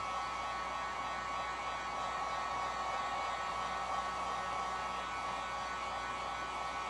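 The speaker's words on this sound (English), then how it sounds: "grab the heat gun, warm them up" A heat gun blows steadily on resin blooms, giving a constant, even airy roar with no breaks and no voices, moderately quiet throughout.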